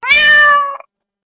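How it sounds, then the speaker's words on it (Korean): A cat gives a single clear, drawn-out meow lasting under a second, loud and close rather than distant, then silence. "그때 갑자기 멀리서 고양이 울음소리가 들렸어요."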